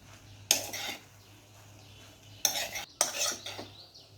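A utensil stirs tomato rice in a cooking pot, scraping against the metal in three short bursts separated by quiet gaps, close and fairly loud over a low hum.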